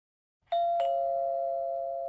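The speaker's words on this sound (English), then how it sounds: "One Saturday morning, the doorbell rang." A doorbell rings alone with two bright chime strikes in quick succession, the second tone ringing out and slowly fading in a quiet room.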